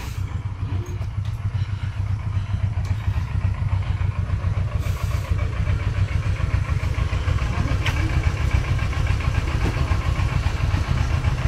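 A motorcycle engine runs steadily at idle, a low continuous throb close by with faint background noise.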